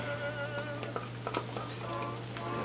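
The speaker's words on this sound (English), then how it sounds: "Back into the cast iron skillet it goes." A flour roux sizzling softly in a cast iron skillet, a quiet continuous crackle beneath a steady low hum, with scattered small clicks and no voices.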